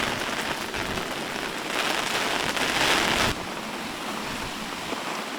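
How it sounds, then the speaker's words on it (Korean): Autumn rain falls steadily over a salt farm, a dense broadband hiss of drops pattering on surfaces that swells louder for a few seconds before settling back, with no voices. "가을비가 내립니다"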